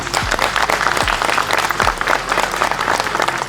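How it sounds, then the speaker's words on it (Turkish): Loud, dense applause from a crowd at a municipal event with the mayor, a sustained roar of many hands clapping together with low thumps underneath. "bence alkışı önce o hak ediyor"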